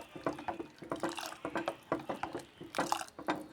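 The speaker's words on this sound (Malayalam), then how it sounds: "അപ്പോൾ ഇതാ ആ ജ്യൂസ് ഞാൻ ഇതിലേക്ക് ഒഴിച്ച് കൊടുത്തിട്ട്" Juice poured into a container while cooking, heard as a quick series of close, dripping splashes that come in short bursts and pauses.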